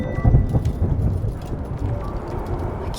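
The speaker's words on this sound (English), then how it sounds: "I can't believe this storm." Thunderstorm in the video game Return to Grace, with a deep rolling rumble and heavy low booms under a steady wash of rain, loud and continuous.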